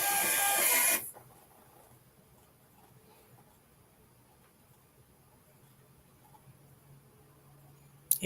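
A printer runs loudly and steadily for about a second, then cuts off and leaves near silence apart from a faint low hum, with a brief clunk at the very end.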